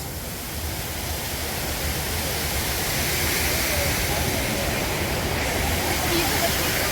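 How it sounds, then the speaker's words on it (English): A loud waterfall pours as a constant, dense roar of water that fills the scene, while a few people talk in the foreground. "What do you think of the waterfall? Beautiful. And it was loud."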